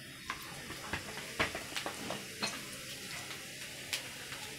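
Cumin seeds hit hot oil in a kadhai and crackle close by, with scattered sharp pops and ticks over a low, continuous sizzle.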